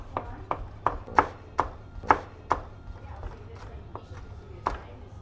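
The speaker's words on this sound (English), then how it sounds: "All you then want to do is just do fine slices with your knife." A knife slices capsicum into fine julienne on a chopping board, a close series of about a dozen crisp knocks, quick at first and then spacing out, with no voices.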